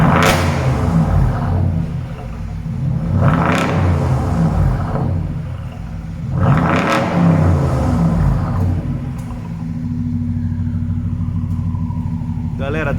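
A BMW 550 with an aftermarket racing exhaust rumbles close by, rising in three drawn-out revs to a loud roar and settling back to a deep idle between them, with people talking over the engine.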